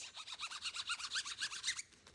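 A textured screen printing stencil squeegee side being rubbed in quick, even strokes, giving a rhythmic dry rasping that stops after nearly two seconds and is followed by quiet.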